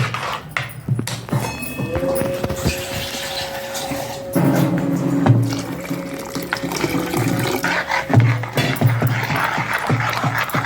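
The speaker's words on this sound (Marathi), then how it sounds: "पाणी टाकायचं याच्यात अजून" Water runs and splashes steadily into a bowl of gram flour batter, a continuous wet rushing with a low hum underneath and a few brief clinks.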